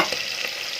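Spices crackle and sizzle in hot oil, a steady close frying hiss with small popping bursts.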